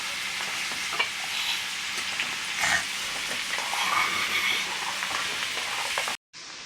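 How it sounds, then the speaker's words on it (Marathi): Curry leaves and garlic sizzle in hot oil for a tempering, a continuous crackling fry with a few sharper pops, steady and close, ending with a brief cut. "कढीपत्ता आपला तडका खूप छान झाला आहे अतिशय सुंदर वास येत आहे"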